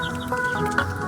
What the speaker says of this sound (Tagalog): Ito yung mga chicken natin.